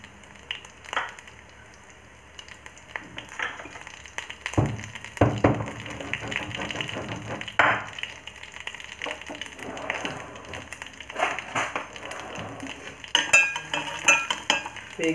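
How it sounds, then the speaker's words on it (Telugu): Mustard seeds, cumin and dried red chillies fry in tempering oil for a pumpkin curry, with scattered clinks and scraping of a spoon against the pan over a soft sizzle. "ఎండుమిర్చి రెండు వేస్తాను. జస్ట్ ఆవాలు కొద్దిగా, జీలకర్ర పోపుకి కొద్దిగా వేసి"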